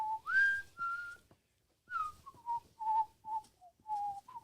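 A person whistles a lilting melody of rising and falling notes on a talk show, loud and close, in short phrases with a brief pause midway and no talking.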